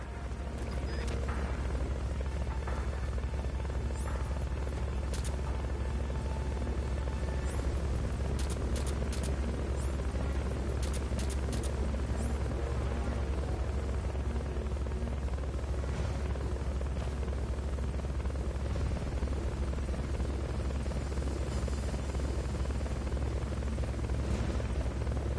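Steady, close helicopter rotor and engine drone from the Fulton recovery helicopter in the video game Metal Gear Solid Peace Walker, a continuous loud roar with a deep low hum, a few faint higher clicks, and no talking.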